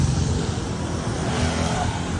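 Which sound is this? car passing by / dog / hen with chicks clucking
car passing by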